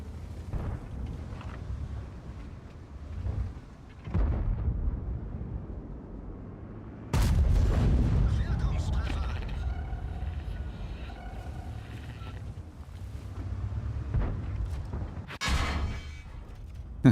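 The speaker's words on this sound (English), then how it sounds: "Why am I being focused by artillery?" Artillery shells land on and around a VK 45.02 tank in World of Tanks, producing repeated deep, booming explosions and heavy rumbling impacts spaced over several seconds, with sharper bursts near the middle and end and engine rumble between.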